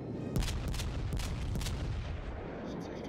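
Heavy naval guns of the Kaiser battleship in World of Warships fire in several booming bursts over a constant low rumble of sea and engine noise.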